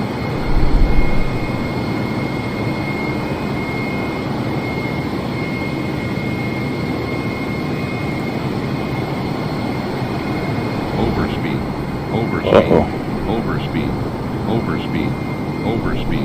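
Airbus A320neo jet cruising at 39,000 feet between Los Angeles and Salt Lake City in a flight simulator game, heard as a steady, loud, continuous engine and cabin roar with a brief thump near the start and a faint click later.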